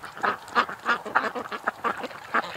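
Several ducks quack in a steady series of loud, nasal calls close by, out on the water and refusing to come ashore, with no talking over them.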